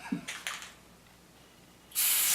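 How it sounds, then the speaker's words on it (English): A short hissing burst of Flex Seal spray comes at the end, after a few brief clicks and rattles, like a can being shaken and then sprayed. "Just spray it"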